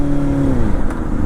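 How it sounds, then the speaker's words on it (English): Kawasaki Ninja ZX-4R motorcycle engine dropping in pitch as it downshifts, a loud, steady close-up drone that sags over about a second. "Hey, watch, I'll downshift here."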